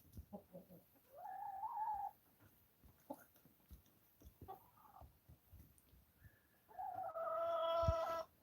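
Molting homestead chickens cluck and squawk nearby in a few drawn-out calls with quieter clucks and scratching between them, heard outdoors on a farm walk.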